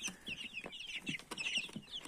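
Young chicks in a brooder box chirp and peep in quick, high, overlapping bursts with soft low clucks. The sound is faint and close, with no voices.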